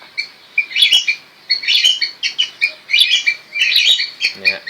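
Loud, repeated squawking bird calls played from a loudspeaker in rhythmic bursts, sharp and bright, with brief pauses between phrases and no voices.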